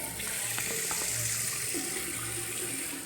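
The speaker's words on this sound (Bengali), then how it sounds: "তো এটা আমি এবারে ভালো করে ধুয়ে আসি মুখটা।" Tap water runs steadily into a sink as someone washes their face, a close, continuous splashing stream with small shifts in tone as hands move through it, with no talking.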